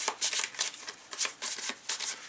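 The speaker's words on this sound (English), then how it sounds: "So I'm just going to go ahead and shuffle them up here real quick." Elder Sign Ancient One cards being shuffled by hand, a quick series of crisp riffling bursts repeating about every half second, close and fairly quiet with no talking.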